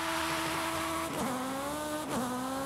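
A video-game race car on stock wheels and tires, with all-wheel drive, a turbo and a street bike engine, holds a steady high engine whine. The pitch dips twice as it corners and the tires squeal, with no talk over it.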